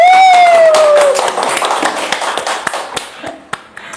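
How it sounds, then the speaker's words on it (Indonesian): An audience at a Sundanese arts and literature event claps in a burst of taps that thins out into scattered individual claps, with a held tone fading at the start. "Tepuk tangan dulu dong"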